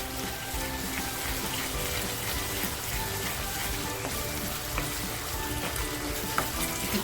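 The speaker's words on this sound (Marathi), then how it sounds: "पाच मिनटं हा मसाला आपल्याला असाच फिरवत राहायचे आहे" Malvani masala sizzles in oil in a pan while being stirred for a fish curry, a loud continuous frying crackle with occasional clicks of the spoon and no talk.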